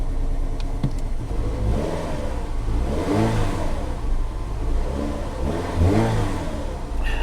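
Car engine at a Copart salvage yard, starting and running rough: a mid-pitched engine surging in uneven revving swells, loud and close, with no talk.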